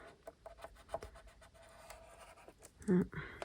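Paper bag journal material being cut, a soft run of scratchy, rubbing snips and scrapes close up, with one louder crunch near the end.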